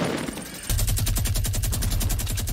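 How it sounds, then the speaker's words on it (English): Rapid Fortnite gunfire erupts after a brief lull, a dense, loud burst of automatic shots hammering in quick succession for a couple of seconds. "I hear bullets."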